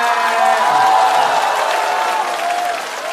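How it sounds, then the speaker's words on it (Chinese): A studio audience applauds at a Chinese comedy roast show, a dense, loud and sustained wash of clapping and crowd noise that eases off slightly toward the end. "谢谢各位，掌声，谢谢各位。"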